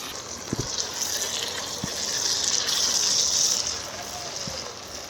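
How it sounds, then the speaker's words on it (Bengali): Water splashes in a steady gush into a chilli chicken pan already holding capsicum, spring onion and sauce, close and fairly loud, with a few small clinks over the continuous pour. "একটু জল দিয়ে দিলাম"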